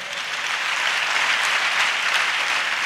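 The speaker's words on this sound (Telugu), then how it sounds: "గట్టిగా చప్పట్లు కొడదాం." A church congregation claps loudly together in a sustained, dense burst of applause lasting a few seconds, with no speech over it.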